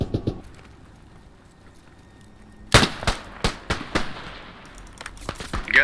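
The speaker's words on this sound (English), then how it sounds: "Yeah, I dropped the grenade there." In a WWI winter combat video game, a sharp blast is followed by a quick run of loud, close bangs and pops. The reports come in a ragged rhythm and then give way to quieter rumbling.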